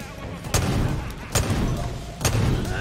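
Suppressed gunfire in the video game Far Cry 5: three punchy shots roughly 0.8 seconds apart, heard over a dense, steady game soundscape.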